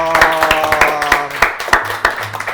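Brief clapping from a small studio audience on an Indonesian talk show, a handful of loose, uneven claps close by, with tonal background sound underneath.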